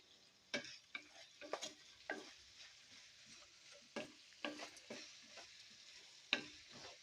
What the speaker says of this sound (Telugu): ఉల్లిపాయలు గోల్డెన్ బ్రౌన్ కలర్ వచ్చే వరకు అయితే వేపుకోవాలి